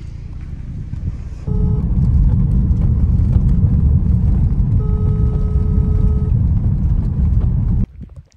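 A car driving and then parking at night at a rural suite in Zaragoza, a loud steady engine and road rumble with a steady electronic tone sounding twice, then the engine cuts off abruptly near the end.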